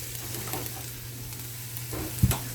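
Green beans tipped into a hot pan of cooked-down onions and garlic give a steady, soft sizzle over a low hum, with a brief clatter near the end.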